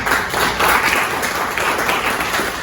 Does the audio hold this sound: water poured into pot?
no